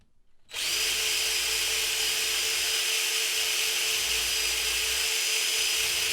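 A power drill bores holes through hard, seasoning wood of a handmade snowshoe frame, running as one steady, loud, close whine after a brief quiet start.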